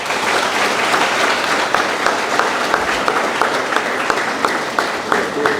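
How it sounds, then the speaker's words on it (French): Graduation ceremony audience applauding the new graduates, loud, dense clapping from a large crowd that continues steadily throughout, with a few sharper individual claps standing out. "Je vous demande de les applaudir."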